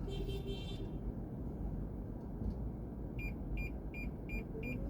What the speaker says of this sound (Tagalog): Busina ng busina, busina ng busina